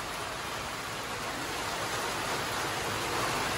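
Steady, dense rain falls, a continuous hiss of drops on surfaces heard alone for a few seconds with no voices.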